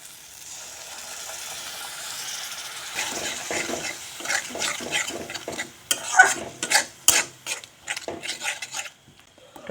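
Fish curry masala with sour yogurt is stirred and cooked down in a pan, starting as a quiet simmering hiss, then giving way to busy, close scraping and clattering strokes of a spoon against the pot.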